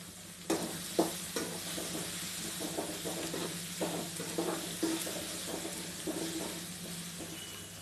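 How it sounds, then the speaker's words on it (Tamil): Two large onions sauté in a pan for prawn gravy. A continuous close sizzle is broken by repeated scraping strokes of a stirring spoon, with no talk. "ரெண்டு பெரிய வெங்காயம் சேர்த்திக்கலாம். போட்டு எல்லாத்தையும் நல்லா வதக்கி விடுங்க."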